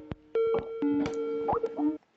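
Skype's ringtone plays back through a computer while it is being set up in the settings, a bright electronic melody of sustained tones with several clicky note onsets, running for about two seconds, clear and alone.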